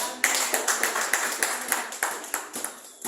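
A church congregation claps in a steady rhythmic beat, about a dozen sharp claps spaced evenly over a few seconds, moderately close, with faint voices underneath.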